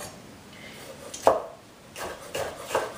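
Knife chopping tomatoes on a cutting board while making crawfish fritters, a few separate sharp cuts, close by, with short gaps and no talk.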